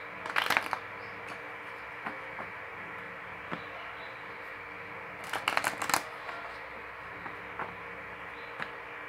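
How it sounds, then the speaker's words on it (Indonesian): A deck of tarot cards is shuffled close by in a quiet room. Two bursts of riffling, one at the start and a longer one later, are joined by light taps and card handling in between. "sekarang aku akan shuffle kartu tarotnya ya"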